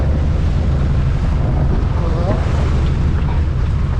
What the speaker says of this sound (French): la mer est un peu agitée, mais ça va quand même